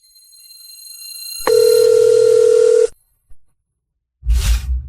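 A steady telephone dial tone sounds loudly for about a second and a half as a call is being placed, then cuts off, followed by a short click and a brief burst of rustling noise.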